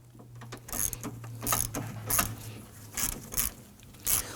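Ratchet wrench loosening a 10mm bolt on the AC condenser of a 2015-2024 Nissan Murano 3.5L V6, a series of close, sharp clicking bursts in uneven rhythm, about six strokes.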